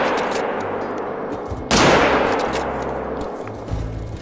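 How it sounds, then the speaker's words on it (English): A single hunting-rifle shot fired in the video game TheHunter: Call of the Wild, a sharp loud crack about midway that rolls off into a long fading tail over a steady outdoor ambience. "How well did I shoot that?"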